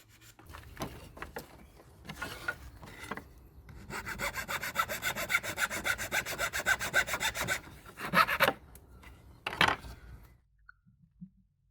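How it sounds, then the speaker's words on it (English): Wood cut to length by hand saw for a silk painting frame, starting with scattered handling knocks, then a steady run of rapid back-and-forth sawing strokes, close and clear, ending with a few loose scrapes and taps, no voices. "Cut it to the length and smooth the wood with the sandpaper."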